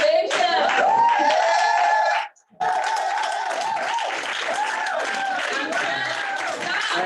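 Audience applause for attendees of a lead-generation class, a dense wash of clapping with a brief drop to silence partway, while tonal, voice-like sound runs over it.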